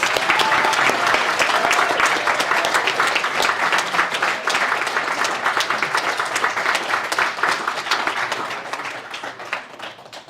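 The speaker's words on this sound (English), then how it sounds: "Another round of applause." Sustained applause from a large audience at a volunteer awards ceremony, dense and steady, slowly tapering toward the end with no talking.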